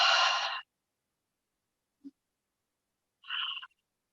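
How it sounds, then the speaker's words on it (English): Deep breathing at the close of a yoga practice: one long, breathy exhale, a tiny click in the silence, then a second shorter audible breath, each heard close and quiet. "we're going to end today's practice with our 3 clearing"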